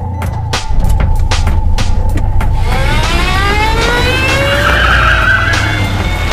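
A car in a thriller movie scene tears away with a loud, sustained tire skid and rising squeals over a rumbling engine, after a few sharp percussive hits at the start.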